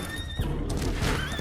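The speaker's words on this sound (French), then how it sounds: "Waouh, on a un cheval" A horse whinnies loudly and close in the Far Far West video game, a shrill wavering neigh that drops and then rises again, with faint hoof clatter and no talk.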